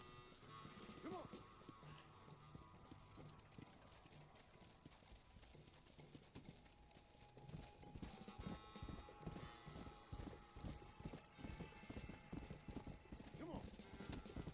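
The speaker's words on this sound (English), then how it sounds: "there's your horse." Horse hooves clip-clop in the Red Dead Redemption: Undead Nightmare video game, a quick steady rhythm of close, distinct hoofbeats that grows busier midway, with a brief whinny early on and people talking over it.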